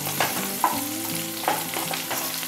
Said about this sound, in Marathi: म्हणून असे तेलात ढवळत रवायचे